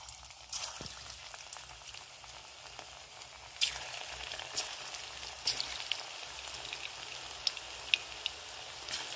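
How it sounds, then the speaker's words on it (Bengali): Soybean pakoras frying in hot oil in a kadai, a continuous crackling sizzle with scattered sharp pops and spatters, close by and fairly quiet, with no voices. "এবার সোয়াবিনগুলো একটা করে দিয়ে দিয়ে ভেজে নেব।"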